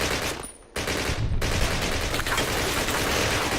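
A Bren light machine gun fires in Call of Duty Classic, loud dense automatic bursts with a brief break early on before the firing resumes and continues to the end.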